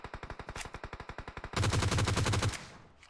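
Video game gunfire: a rapid run of evenly spaced single shots, then a louder, denser automatic burst that stops abruptly and leaves a short decaying tail, with no talking.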